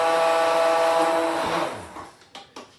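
A blender purées a vegetable cream soup with a loud, close, high whirring drone that winds down after about two seconds, followed by a couple of light knocks.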